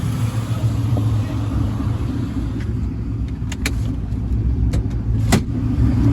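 Mustang Cobra V8 with a completely straight-piped exhaust and muffler delete, a steady deep rumble from inside the car while driving, loud and continuous with faint occasional clicks.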